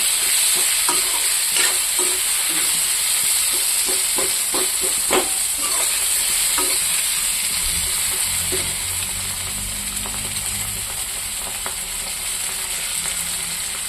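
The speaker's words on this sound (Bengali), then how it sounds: "টমেটোটা একটু ভাজা ভাজা করব পেঁয়াজের সাথে।" Tomato and onion fry together in hot oil for an egg fry, giving a steady close sizzle and hiss with repeated scraping stir strokes early on that fade as the frying continues.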